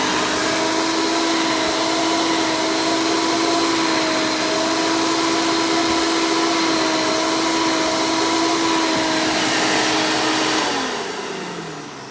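Hoover Elite 350 square hood direct air vacuum cleaner running, a loud steady whirring roar with a high motor whine that slowly drops in pitch and fades as it winds down near the end.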